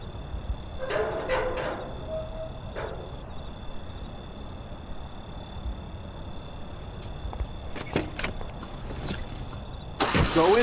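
Car engine idling low and steady in the Mafia video game, with faint clicks and a sharper mechanical clatter near the end.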